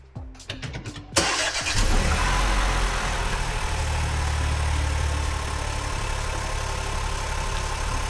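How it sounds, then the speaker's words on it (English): A Vauxhall Astra petrol engine cranks with a few rapid starter clicks, fires loudly into life, then settles into a steady, even idle that carries on without talk. "start the engine."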